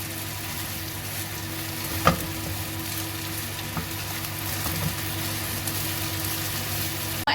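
Mashed boiled potatoes being stirred and mixed in a hot frying pan, a steady sizzle with scraping spoon strokes and a few sharper knocks, close and alone with no talking.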